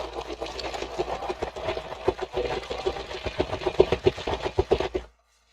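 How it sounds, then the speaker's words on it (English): A sewing machine stitches a fabric tote bag in quick bursts of close, rhythmic needle chatter, speeding up toward the end, then stopping abruptly. "I can sew faster"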